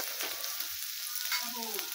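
Potatoes and onion frying in a pan, a steady hissing sizzle with light stirring scrapes, close and brief, with no voices.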